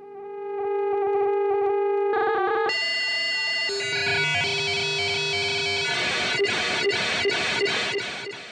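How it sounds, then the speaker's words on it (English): A droning effects instrument pours out a harsh, angry modem-like tone, starting as a steady sine-like pitch and then bursting into a dense, buzzing cacophony of chirps and pulsing tones, loud and alone throughout. "It's like your modem from high school, but angrier."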